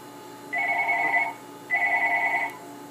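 A landline telephone rings in two long electronic trills separated by a short pause, clear and fairly close in a quiet indoor room with no talk over it.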